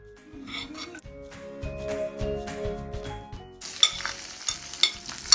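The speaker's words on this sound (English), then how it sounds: "Once the oil is hot, add some sliced garlic, ginger and chilies." Sliced garlic, ginger and chilies hit hot oil in a pan: soft clinks and stirring at first, then a sudden loud, crackling sizzle bursts in and keeps popping to the end.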